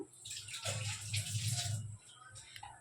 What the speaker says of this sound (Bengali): আমি এখন হাত ধুচ্ছি কারণ লঙ্কা কেটেছি